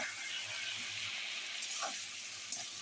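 Eggplant frying in a pan with salt, turmeric and green chili, giving a steady soft sizzle and hiss with faint stirring scrapes, close and continuous with no talking.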